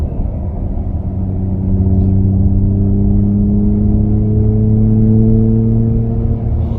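A Genesis G80 electric sedan emits a steady engine-like drone imitating a naturally aspirated engine, with rising tonal hums and a faint high whine layered over a low rumble, continuous throughout.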